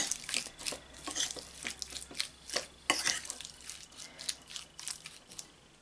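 A chicken nugget mixture with corn starch is stirred in a bowl, giving a steady run of close, rhythmic scraping and slapping strokes with no talking.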